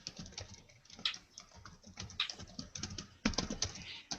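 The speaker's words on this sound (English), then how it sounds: "I hear typing." Typing on a computer keyboard, a run of quick, irregular clicking keystrokes with a few sharper taps, close and fairly quiet, with no voices.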